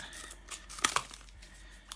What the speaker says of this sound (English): we're going to want to cut that off. So with your scissors,